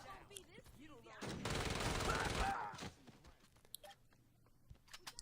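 Uzi submachine gun fire in the Vice Kings video game: one dense burst of rapid shots lasting about a second and a half, followed by quieter scattered clicks and game sounds.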